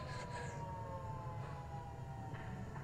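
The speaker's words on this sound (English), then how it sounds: "Sirens?" Sirens wailing during an episode of Loki, steady and continuous with rising and falling tones over a low rumble, moderately loud with no voices.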